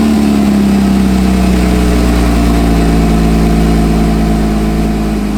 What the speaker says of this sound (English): We could actually go ahead and give it a cold start.